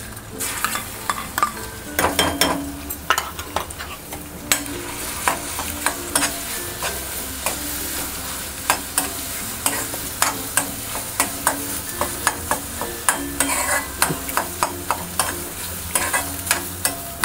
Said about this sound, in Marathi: जो मसाला जो आपण बारीक वाटून घेतला होता तो आता चांगला तेलामध्ये आता आपण परतून घेऊया.